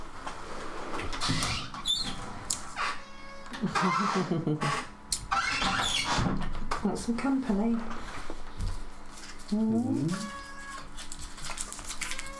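A house cat meows indoors during a live four-player board game session, giving a few drawn-out, rising and falling meows spread across the stretch amid steady background noise and people talking.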